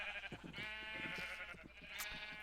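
Sheep in the video game Minecraft give a few short, wavering bleats, quiet and close, over a steady background of game sound, with no talking.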